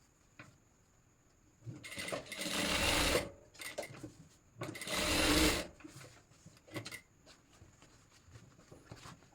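Sewing machine stitching the pocket of formal trousers, two loud close bursts of rapid needle clatter separated by quiet handling clicks and pauses.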